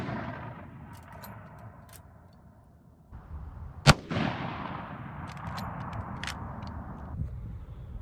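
A single sharp gunshot from a .30-30 Marlin rifle cracks out loud and close midway, followed by a brief ringing tail over quiet outdoor background noise.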